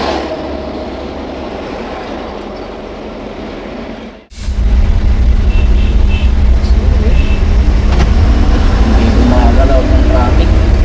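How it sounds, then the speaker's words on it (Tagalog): Road traffic heard from inside a Suzuki DA63T pickup in Davao City, a steady rumbling engine and road drone that briefly drops out, then returns louder and continues, with passing-vehicle noise and occasional voices. "Traffic."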